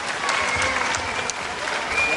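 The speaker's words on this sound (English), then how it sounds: "And there the crowd love that." A wrestling arena crowd cheers and applauds loudly after an equalizing fall, with dense clapping and a commentator talking over it.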